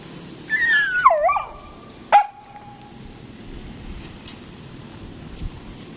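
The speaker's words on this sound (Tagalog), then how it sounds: "Nag-iyak siya sa akin. Abnormal na aso yun." A dog lets out whining, whimpering cries followed by one short sharp yelp, heard near on a street while waiting for a jeep, then quieter background noise.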